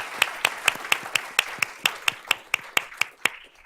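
Sparse applause for students at a school board of trustees meeting: a single pair of hands claps in a steady rhythm about a dozen times, close and moderately loud, against a quiet room.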